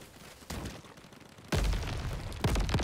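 Grenade double explosion in the Crab Champions video game, a series of sharp booming blasts and bursts, one at about half a second, a heavier one near one and a half seconds and another near the end, fairly close and punchy.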